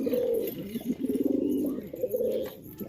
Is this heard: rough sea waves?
no